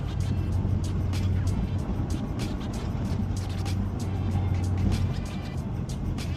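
Engine of a 2008 Subaru Legacy 2.5 fitted with a Cosmo Racing intake, a steady, deep, loud idle hum that holds throughout with a low drone and a faint background hiss.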